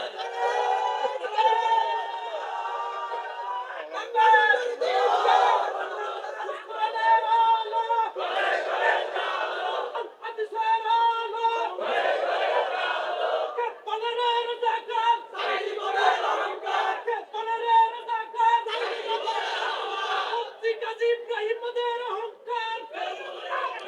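A large crowd chants Bengali political slogans in loud, rhythmic bursts of many voices together, repeating call after call with brief gaps and a rough, shouted quality throughout.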